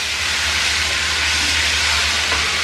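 Ground pirandai (adamant creeper) paste hits hot oil in a pan, giving a loud, dense, unbroken hissing sizzle that stays steady over a low hum throughout.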